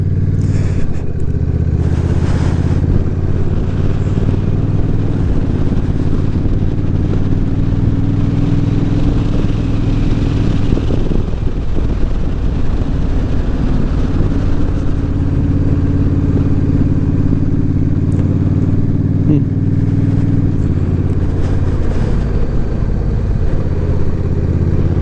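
Honda Rebel 1100 DCT motorcycle on a ride, its engine droning steadily and loudly throughout with a constant low rumble, slight shifts in pitch, and wind noise layered over the top, no voices present.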